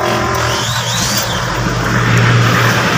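A Mitsubishi Adventure's engine runs close by with a loud, steady motor hum and a low droning rumble that rises slightly toward the end, with no talking.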